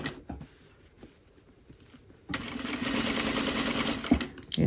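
A sewing machine stitches a pocket seam, first a few slow, separate clicks, then a steady, rapid running hum for a couple of seconds before stopping.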